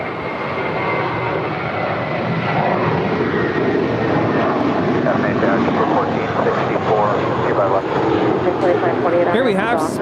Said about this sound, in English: Here we have Spirit 1023 departing to Chicago. It's a 4-year-old Airbus A320.